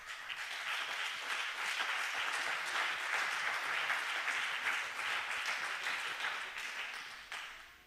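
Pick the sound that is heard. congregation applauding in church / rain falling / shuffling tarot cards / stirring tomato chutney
congregation applauding in church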